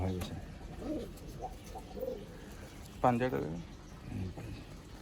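Small-bodied pigeons offered for sale coo in short, low bursts at close range, one louder rolling coo standing out midway, while people talk nearby.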